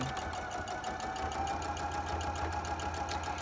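A sewing machine stitching quilt pieces a quarter inch from a drawn line, a steady, close mechanical whir with a fast, regular needle rhythm running the whole time and no talking.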